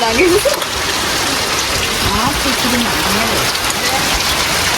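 Steady rain pours down evenly with a constant hiss, and a voice speaks faintly underneath it.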